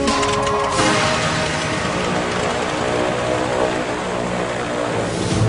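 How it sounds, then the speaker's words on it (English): A loud, steady propeller engine drones close by, a constant throbbing roar as a small plane powers up for takeoff. "The plane lifts off at 1:07 p.m."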